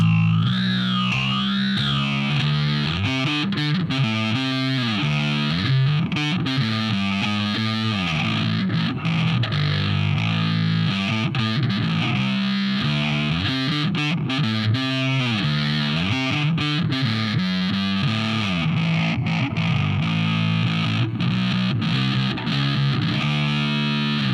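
A bass guitar through a Warm Audio Jet Phaser pedal, with a slow, sweeping swirl, plays a steady line, the tone rising and falling in repeating waves throughout.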